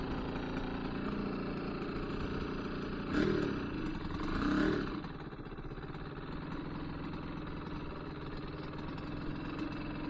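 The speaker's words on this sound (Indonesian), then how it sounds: "Banyak motor-motor kayak gini ya, Genski namanya kalau motor-motor kecil kayak gini." Small motorcycle engines in Japan putter and idle nearby, a steady buzzing drone with a couple of brief revs rising over it.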